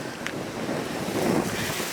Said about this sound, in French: Le vent en pleine face.